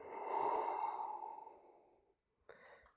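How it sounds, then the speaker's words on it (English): Slow, audible breath during a twist in a dynamic yoga sequence: a long airy exhalation that fades out, a brief pause, then a sharper intake through the nose, close and quiet with no talking. "And we're breathing here."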